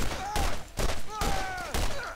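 Bursts of gunfire in the video game Borderlands arrive in four loud volleys with short gaps between them, with whining tonal effects sliding through the shots.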